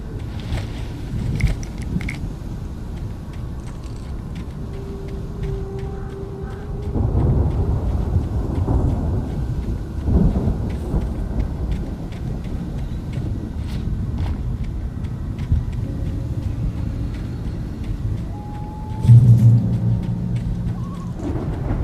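Thunderstorm in the Alan Wake video game, with rain and low rumbling thunder throughout and a louder crack of thunder near the end, no talking.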